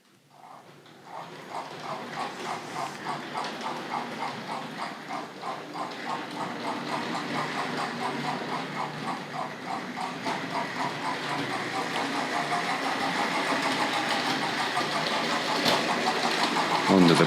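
A Hornby model locomotive runs steadily around a layout, giving a continuous rhythmic clicking of wheels over rail joints with a mechanical whir that grows slightly louder as it approaches.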